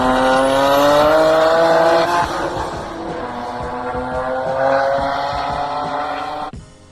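A 2JZ-swapped Scion FR-S drives hard, its engine screaming high and loud through rising revs, easing off midway and building again before cutting out sharply near the end; no talking.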